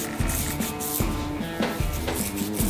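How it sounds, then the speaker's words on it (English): Dry hair scrunched in the hand, with dry, crackly rustling close up, repeated in several short bursts with a rough, papery texture. "Does your hair sound like this when you scrunch it up?"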